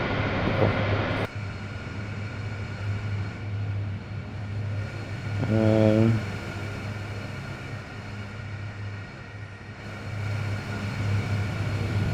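The engines of a C-130 transport aircraft in a flight simulator game hold a loud, continuous turboprop drone that swells briefly midway, with no talk over it.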